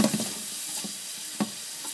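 Onions fry in a pan for fried rice, giving a steady soft sizzle with a few faint stirring clinks, close and continuous with no talking.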